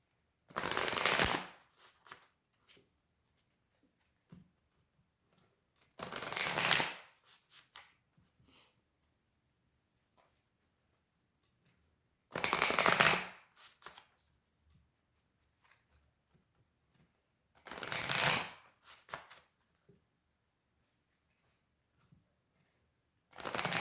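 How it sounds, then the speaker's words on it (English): Moonology oracle cards are shuffled in five separate short bursts, each a crisp riffling flutter up close, separated by long quiet gaps with faint handling sounds. "And now I'm going to pull some Moonology cards."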